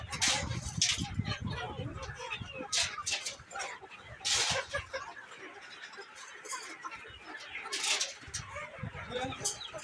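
Chickens on a poultry farm cluck and chatter in a busy, continuous background, with occasional wing flaps and people talking nearby.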